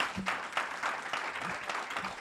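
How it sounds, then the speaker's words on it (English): An audience gives a round of applause at a fireside chat, a short stretch of soft, fairly distant clapping heard on its own. "A round of applause for Steve"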